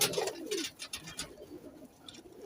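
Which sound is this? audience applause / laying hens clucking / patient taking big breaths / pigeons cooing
pigeons cooing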